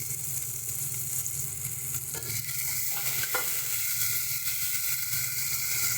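A pan of spiced pointed gourd curry sizzles and hisses steadily as water goes in, with a sharper burst of steam midway and continuous frying noise throughout, close and fairly loud.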